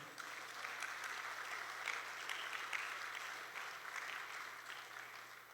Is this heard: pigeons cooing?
no